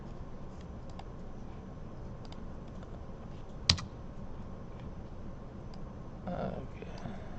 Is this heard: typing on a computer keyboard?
yes